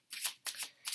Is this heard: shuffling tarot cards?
yes